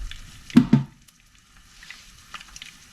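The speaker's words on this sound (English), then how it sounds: "Because it's a high heat saute, you'll find that whatever is on that meat is going to burn." Pork being sautéed over high heat for garlic pork bites: two loud, close sizzling bursts as the meat hits the pan, then a quieter low crackle with faint stirring and no voices.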